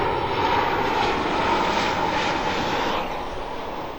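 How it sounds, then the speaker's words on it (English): Steady broadband roar of an airplane passing overhead outside a car detailing shop, loud and continuous for several seconds before easing off slightly at the end, with no voices. "Got a plane flying over."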